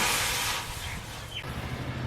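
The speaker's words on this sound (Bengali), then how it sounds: "কড়াইতে জল দিয়ে দিচ্ছি।" Water poured into a hot wok (kadai) while cooking a cabbage and egg dish bursts into a loud sizzling hiss that fades over about a second, leaving a low, quieter bubbling rumble.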